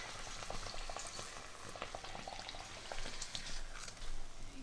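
Golgappa puris frying in hot oil, a steady close bubbling sizzle with scattered crackles and pops, no voices.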